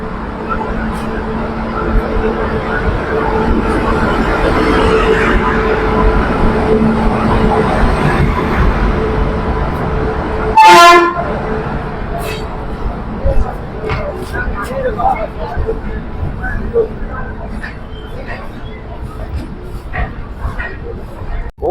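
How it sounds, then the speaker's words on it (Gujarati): The Okha express train arrives at platform four of a busy station, a low rumble and clanking of carriages under crowd chatter and someone talking, with a sharp loud burst partway through and scattered clicks after. "આપણી ઓખાન ખુલ્લમ એક્સપ્રેસ જે ટ્રેન ગોવા જવાની છે તે અત્યારે પ્લેટફોર્મ નંબર ચાર ઉપર આવી ગઈ છે"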